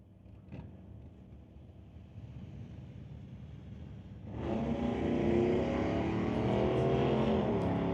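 Drag race cars, a Subaru and a Dodge Dart, run down the track at a sportsman ET series event, a distant roar swelling suddenly into a loud, sustained engine rush with wind buffeting the microphone.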